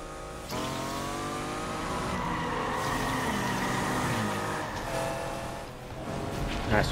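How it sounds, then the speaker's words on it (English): Lamborghini racing in Need for Speed Unbound, a sustained engine note climbing and shifting in pitch with tire squeal, steady and fairly loud throughout. "Alright, we got a nice Lamborghini here, let's give this a shot."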